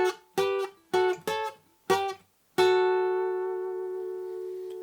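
A guitar plays a chorus lead line: four short picked notes in quick succession, then one note left ringing and slowly fading. It is close and clear, with no other sounds.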